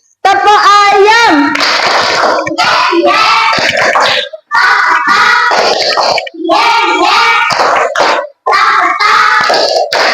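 Schoolchildren in a classroom perform the 'tepuk ayam' clapping chant, singing and shouting together with bursts of rhythmic clapping in several phrases separated by short gaps, loud and close.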